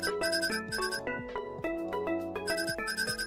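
A phone alarm ringtone from the Coffee Talk Tokyo video game plays a bright, repeating melodic chime pattern in quick, evenly spaced notes, loud and alone.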